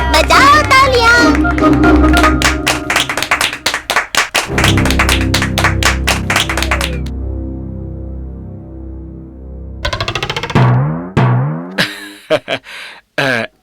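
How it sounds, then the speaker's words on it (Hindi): Rhythmic clapping in a Chhota Bheem cartoon, with a song and cartoon voices; loud claps come in steady bursts alongside music, then stop for a sustained tone before more voices. "राजू जग्गू भीम और कालिया, खेलो मेरे साथ, बजाओ तालियां।"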